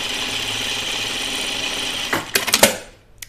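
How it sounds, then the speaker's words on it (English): Domestic sewing machine running steadily while stitching rows of gathering stitches on dress fabric, a continuous close hum that stops abruptly at the end with a few clicks and rustles. "I'm putting all these gathering stitches in right now"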